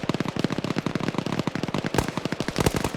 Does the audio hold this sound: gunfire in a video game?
yes